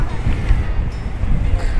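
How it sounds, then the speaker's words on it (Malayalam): Strong, cold gusting sea wind buffets the microphone with a low, rumbling roar, steady and close throughout, at the seaside in Busan. "നല്ല തണുത്ത കാറ്റാണ് കടലിൻ്റെ കാറ്റുകൾ"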